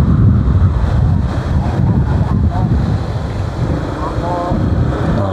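Strong wind blowing by the sea in the town of Calatrava, a steady loud rumble buffeting the microphone throughout, with faint voices partly buried beneath it.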